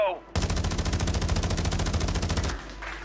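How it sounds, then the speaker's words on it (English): Razorback gun firing in Modern Warfare 2, a loud sustained burst of rapid automatic fire lasting about two seconds, evenly spaced shots, with quieter game sounds before and after. "You would think the Razorback is bad since it's a Modern Warfare 2 gun."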